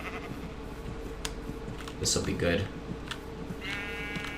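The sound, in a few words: sheep bleating in video game Minecraft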